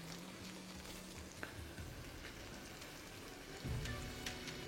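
Spice paste frying in oil over a medium flame, a steady close sizzle with soft crackles and a heavier bubbling burst near the end.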